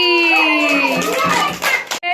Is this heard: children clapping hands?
yes